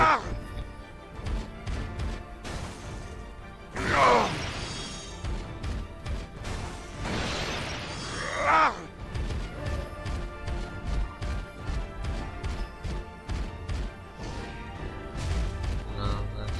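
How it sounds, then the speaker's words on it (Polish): Rocks smashing in the Transformers Prime video game, with repeated loud crashing bursts and crumbling debris over continuous game sounds and effects. "Niszczę te skały."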